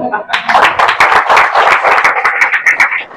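Church congregation clapping hands in a quick, uneven rhythm, close and loud for about three seconds.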